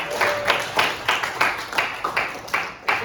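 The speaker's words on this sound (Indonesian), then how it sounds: "Tepuk tangan dulu buat." A class of students claps together in rhythmic unison during a basketball invasion-games lesson, about ten evenly spaced group claps, fairly loud and close, with no talking over them.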